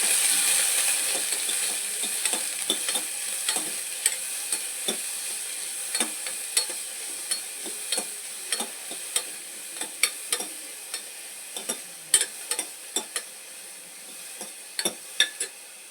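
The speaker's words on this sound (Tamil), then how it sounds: "அதோடு இந்த காய்கள் எடுத்து வச்சுருக்க நம்ம காய்கள்லாம் போட்டு ஒரு கிண்டிக்கலாம்." Vegetables being stirred in a pot with a spoon for vegetable biryani, a steady soft sizzle and hiss under repeated sharp scraping clicks and knocks of the utensil, close by, with no talking.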